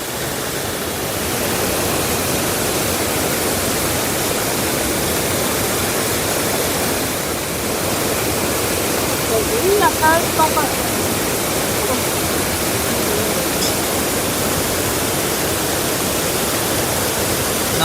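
Iguazu Falls on the Argentine side roars as a dense, constant wall of rushing water, loud and steady throughout, with faint voices briefly surfacing in the middle.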